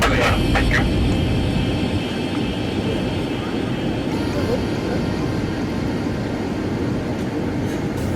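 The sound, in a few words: Boeing 757-200 airliner landing at night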